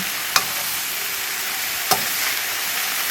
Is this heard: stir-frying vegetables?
yes